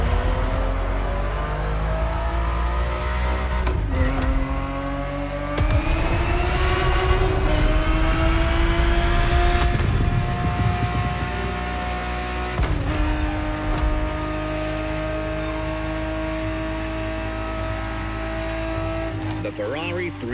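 A Ferrari, such as the 1970s 365 GTB4, drives in The Crew Motorfest, its engine note loud and sustained with rising and falling revs across several gear shifts and occasional sharp transients.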